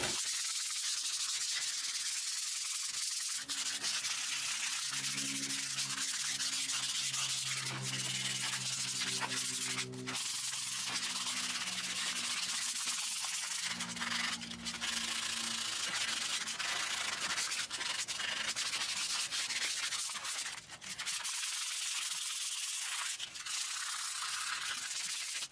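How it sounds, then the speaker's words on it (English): Steady, continuous hand sanding with 220-grit sandpaper on the body of a custom guitar kit, a close, even abrasive rubbing that persists throughout. "Now this thing needs tons of hand sanding."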